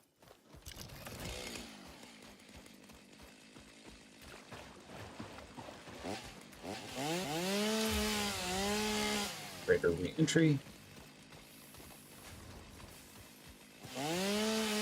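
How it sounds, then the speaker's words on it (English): A chainsaw in the video game Satisfactory cuts through trees and foliage to gather wood, its buzzing whine rising loud in long sustained bursts, with someone talking over it at times. "Oh, this chainsaw is nice."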